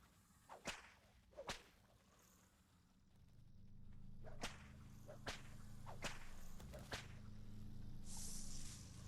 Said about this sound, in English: Whip is the ultimate thing to take care of poisonous mushrooms.